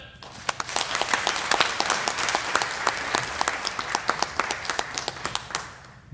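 A seated audience at a Korean forestry association gathering gives sustained applause with sharp individual claps standing out, close and steady throughout.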